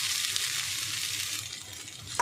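Grated potato is mixed into sizzling prawn masala in a pan, a close steady frying hiss with soft stirring scrapes, and a brief louder knock right at the end.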